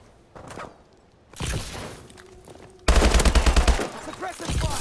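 Machine-gun suppressive fire in Call of Duty: Advanced Warfare, a close, loud rapid burst of rounds in the latter half following earlier scattered shots and thuds, with a shouted voice in the mix.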